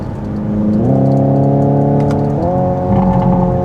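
Synthetic engine note from a 2025 Hyundai Ioniq 5 N electric hot hatch, a loud steady droning tone that steps up in pitch twice as it accelerates through the gears, heard alone without talk.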